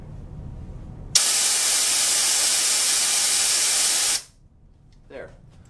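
Compressed air sprays from a nozzle onto a lightweight disc in a classroom demonstration, a loud, steady broadband hiss that bursts on abruptly and holds for about three seconds before cutting off, leaving quiet room tone.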